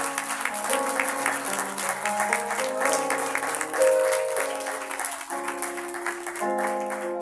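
Congregation at a church service claps in praise of the Lord while sustained music with held tones plays, the clapping rhythmic and mixed under the accompaniment throughout.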